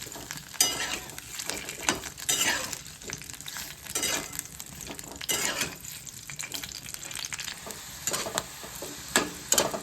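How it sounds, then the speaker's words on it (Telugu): Okra shallow frying in oil while being stirred, a soft steady sizzle with repeated scraping strokes of a utensil against the pan at close range. "బెండకాయలు ఇలాగా షాలో ఫ్రై చేస్తే మంచిగా కుక్ అవుతాయండి, బాగా వేగుతాయి."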